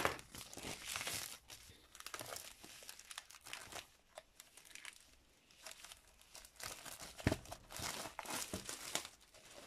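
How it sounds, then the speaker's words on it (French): Plastic wrapping of an Aldi diamond painting kit being opened, close crinkling and tearing in irregular bursts, fairly quiet, with short pauses between handfuls. "je vais ouvrir le plastique"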